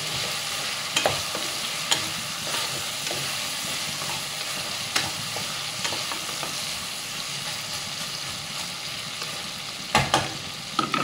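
Seven green chilies fry in a pan for a white kuruma, giving a continuous low sizzle broken by sharp scrapes and clicks of stirring. No one speaks.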